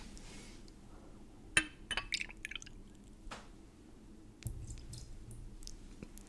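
Quiet clinks of glass and small splashing drips as liquor is poured and measured into a glass, with a few scattered taps and soft handling noises.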